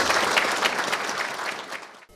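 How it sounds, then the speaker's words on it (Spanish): A crowd at a regional government gathering in Nariño, Colombia breaks into loud, dense applause in support of the peace process, sustained and then cutting off abruptly at the end. "ese aplauso es para el proceso de paz"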